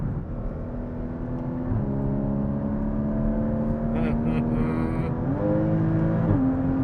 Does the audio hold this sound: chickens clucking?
no